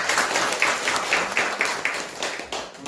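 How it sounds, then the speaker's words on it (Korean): A church congregation claps for the music leader and accompanist during a Sunday service, moderately loud applause with a loose pulse of sharper claps that slowly fades toward the end. "박수 하시겠습니다"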